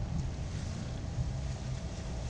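A sailboat's low engine rumbles on open water near Greenport, Long Island, with wind buffeting the microphone throughout.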